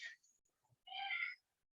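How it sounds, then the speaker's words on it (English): A house cat yowls in the background, one short cry followed by a longer drawn-out meow, faint and distant against near silence. "Sorry for my cat screaming in the background."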